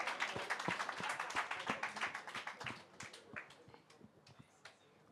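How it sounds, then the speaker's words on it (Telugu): Quiet claps from an audience at a film celebration event come as a quick run of distinct hand claps that grow sparse and fade into a few scattered claps near the end. "క్లాప్స్ కొట్టండి వాళ్ళకి"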